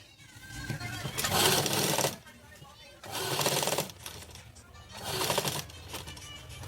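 Three bursts of sewing machine stitching on fabric for puff sleeves, each a loud, fast whirring run of about one second, separated by short quiet pauses, close to the listener.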